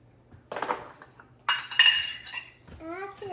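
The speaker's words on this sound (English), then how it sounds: "Scrape the sides." A spatula scrapes around the sides of a bowl of frosting in two bursts of rubbing and clinking, then a voice follows briefly.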